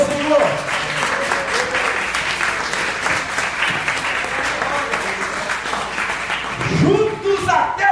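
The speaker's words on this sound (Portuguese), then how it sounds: "Dê uma salva de palmas ao Senhor." A church congregation claps and applauds steadily throughout, with dense crowd clapping and a few voices calling out near the end.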